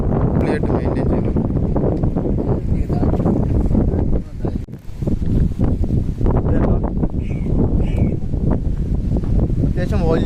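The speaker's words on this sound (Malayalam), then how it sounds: "അത്യാവശ്യം വലിയ ലോഞ്ചാണ് കേട്ടോ" A large passenger launch named Crystal Speed cruises at sea on a trip from an island to Malé in the Maldives, its steady engine and hull rumble loud and continuous, with wind buffeting the microphone and a brief dip midway.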